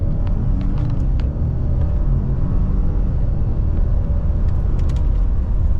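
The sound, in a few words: 2024 Silverado RST 6.2 and F150 3.5 EcoBoost accelerating 0-60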